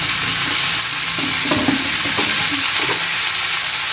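Spices being sautéed and stirred in a pan with a little sugar while cooking, a steady close sizzle with occasional scraping and stirring knocks.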